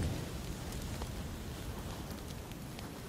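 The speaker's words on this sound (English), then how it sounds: "Here comes the molly." A Molotov cocktail burns in PUBG on PlayStation 4, giving a steady crackling, hissing roar of fire that holds at an even level throughout, with no talk over it.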